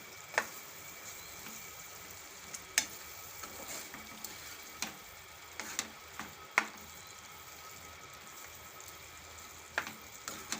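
Capsicum and paneer in a curd curry being stirred in a pan, with a soft continuous sizzle under scattered sharp clicks and scrapes of the spoon against the pan, fairly quiet and close.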